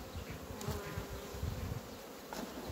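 Honeybees buzzing at beehives during a winter feeding check, a continuous close, droning hum of many insects with no talking.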